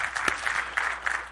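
Audience at a financial industry conference clapping, a short burst of dense applause from a crowded hall with no voices over it.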